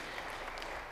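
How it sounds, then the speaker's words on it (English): Presbyterian congregation clapping in a church, a steady wash of applause filling the short moment without any talk. "So proud of you clapping a little bit."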